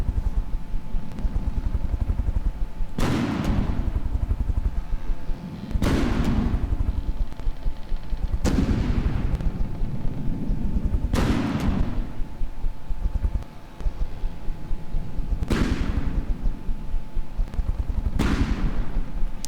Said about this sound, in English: The weapon is now loaded with its 84 shells, so we'll give this a quick little fire test.